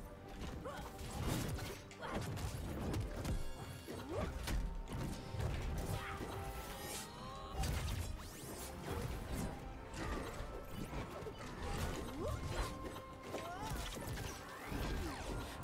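Metallic clanks, ratcheting and crashing hits from the bolts item in the fighting video game MultiVersus play repeatedly throughout, mixed with game effects and music.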